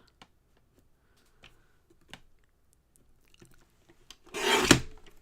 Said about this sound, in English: I'm going to trim this strip across the bottom off first.